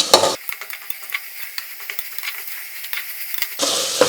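Ginger and garlic being stirred as they fry in a pan for vegetable biryani, with spoon scrapes and a soft sizzle ticking through the clip and louder bursts at the start and end, no talk.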